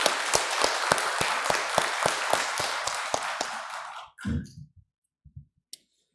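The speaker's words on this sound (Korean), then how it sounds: "박수 한번 드리겠습니다." A church congregation at a Korean afternoon worship service claps together in a steady rhythmic beat for about four seconds, sharp and close, then stops, leaving a few soft thumps and near-silence.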